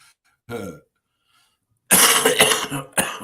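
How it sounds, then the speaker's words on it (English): A man coughs, one short cough followed after a pause by a harsher, longer burst of coughing with some throat clearing, close and loud against near silence. "Man, can't get over this cough, bro."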